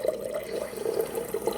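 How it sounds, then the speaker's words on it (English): Water running from a tap into a plastic cartoon cup, a steady gurgling trickle with small splashing bursts, close and continuous. "Get myself some water with my Winnie the Pooh cup."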